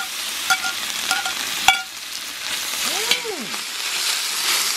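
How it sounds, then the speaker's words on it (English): A whole package of bacon frying in a hot discada cowboy wok with vegetable oil, a dense steady sizzle close up, broken by a few light utensil clinks and a brief faint whistling tone. "I'm going to throw my bacon in first."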